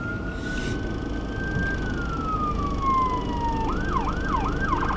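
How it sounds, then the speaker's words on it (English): An ambulance siren sweeps through a long wail, then switches to a fast yelping pattern, loud and close over steady road rumble, heard from inside a vehicle pulling over. "I'm just moving over as an ambulance coming"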